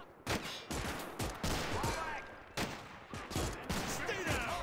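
Gunfire in the WWII game Gates of Hell during a bridge battle: sharp, loud bursts of rifle and machine-gun shots in rapid clusters, with brief pauses between volleys and no talk over them.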